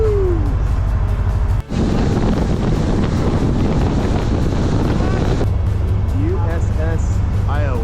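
A steady, loud low rumble of boat engines mixed with wind buffeting the microphone, at the Port of Los Angeles, with a person's whooping shout near the end.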